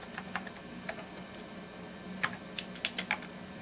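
A 1987 Commodore Amiga 2000 keyboard is typed on in short, irregular bursts of close, crisp clicking keystrokes against a quiet background hum.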